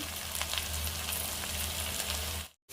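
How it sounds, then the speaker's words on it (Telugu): Red chili powder fries in hot ghee for a fish curry, giving a dense, continuous sizzle close by that cuts off abruptly near the end. "కారం మంచిగా ఫ్రై చేసుకోవాలి"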